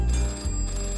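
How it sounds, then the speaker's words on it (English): Telephones ring across the village of Greendale in a Postman Pat cartoon. A bright, steady bell-like ringing fills the brief moment, loud and close, with no voices over it. "The phones were ringing again, all over Greendale."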